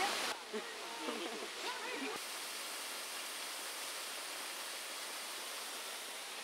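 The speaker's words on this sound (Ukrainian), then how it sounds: "Женецький водоспад, який вабить до себе численних туристів навіть такої дощової днини." Zhenetskyi waterfall in the Carpathian National Park on a rainy day, a steady hiss of falling water heard alone, after a brief opening stretch where a voice speaks.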